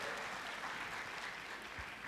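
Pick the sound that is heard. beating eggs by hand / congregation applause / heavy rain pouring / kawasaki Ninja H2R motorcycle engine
congregation applause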